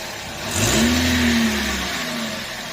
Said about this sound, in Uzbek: Mana dovush baland chiqdi. Katalizator yo'q-da mashina.